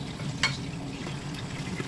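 Sweet and sour sauce made with ketchup bubbling and sizzling in a pan, a soft steady simmer with small pops, fairly quiet and close.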